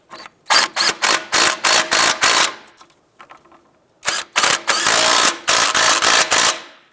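A ratchet snugs the nuts on a 2001-2005 Honda Civic CV axle in quick, loud bursts of clicking, with a short pause between two runs of strokes.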